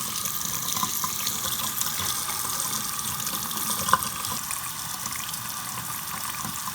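Water runs steadily from the faucet nearest an instant hot water heater, a continuous hiss of flow into the sink with one brief clunk midway.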